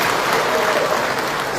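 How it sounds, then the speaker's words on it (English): An audience at a political gathering applauds in a dense, steady burst of clapping that stays loud and even throughout the short stretch. "Let's have a round of applause for them."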